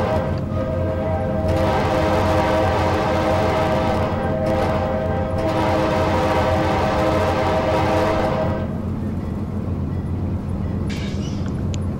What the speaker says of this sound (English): There's nothing like blowing a horn on a train.